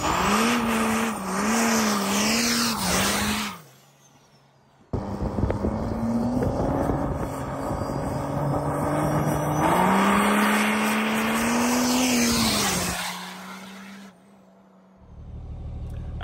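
A 2006 Ram 2500 truck fitted with CalTracs revs and accelerates hard in repeated runs, engine droning and rising in pitch through gear changes, with a short pause and sudden restarts, loud and close, with no voices.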